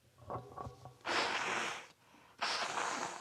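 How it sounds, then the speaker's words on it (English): Someone blows their nose in two loud, rough, honking bursts, the second after a brief pause, close to the microphone during a home hockey watch-along. "And I blow my nose, pardon me."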